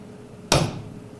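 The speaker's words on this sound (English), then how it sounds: "Dot punch." Single sharp hammer tap on a dot punch marking round steel bar, one close metallic strike that decays quickly against quiet workshop background.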